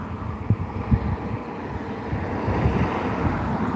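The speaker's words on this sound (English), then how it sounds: "the wind, guys." Wind buffets an outdoor microphone in Dublin, Ireland, a steady low rumbling roar with occasional gusty thumps, no voices.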